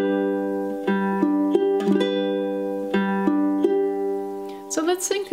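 A finger-picked ukulele pattern for a song played up to tempo; steady, ringing plucked notes in an even rolling rhythm, close and clear, with a brief burst of other sound at the very end.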